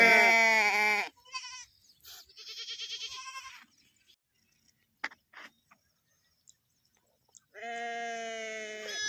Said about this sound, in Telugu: గొర్రెలు చూడండి వాటి పిల్లల కోసం ఎట్లా అరుస్తున్నాయో